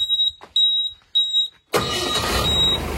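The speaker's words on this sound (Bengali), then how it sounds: "তো চলুন আমি ইঞ্জিনগুলো স্টার্ট করি" A newly delivered truck's engine starts up: a few high electronic beeps come first, then a sudden loud, steady engine roar fills the rest.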